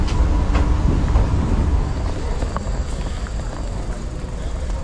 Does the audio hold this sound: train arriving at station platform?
yes